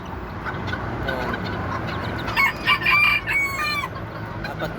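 Bantam chickens clucking and chirping nearby with a hen and her four chicks, a soft steady rustle underneath and a cluster of louder clucks and calls in the middle.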